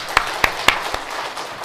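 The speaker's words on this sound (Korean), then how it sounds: "우리가 다시 한번 축하 박수를 한번 합시다" Congregation at a church elders' ordination and retirement service giving celebratory applause, a few sharp distinct claps followed by softer scattered clapping.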